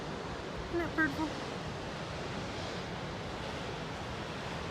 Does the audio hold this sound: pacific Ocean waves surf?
yes